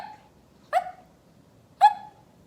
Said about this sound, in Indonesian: Barking tuh literally mereka gonggong kecil gitu loh.